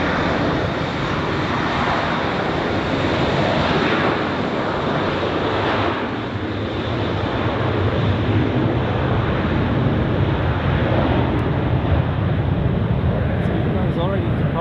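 A Swiss Boeing 777 airliner taxis and departs at Zurich Airport, its jet engines making a loud, continuous broadband roar that holds steady throughout and swells slightly toward the end.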